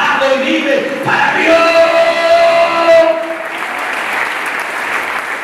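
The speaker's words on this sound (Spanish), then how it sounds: "Cuando me aplaude fuerte, hermano" Loud applause from a church congregation during an evangelical sermon, with a dense wash of clapping and a raised voice or music tones over it for the first three seconds, then steady clapping.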